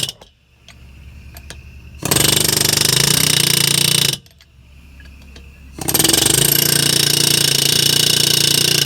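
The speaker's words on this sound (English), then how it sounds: "So I got an air hammer for it." A pneumatic air hammer fires in two loud, rapid hammering bursts of about two seconds each, separated by quieter pauses of low hiss and clanks.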